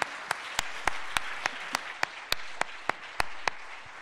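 A small audience at a talk on AI and mobility claps for two speakers, a sparse, evenly spaced run of sharp, distinct claps over a soft hiss of background clapping.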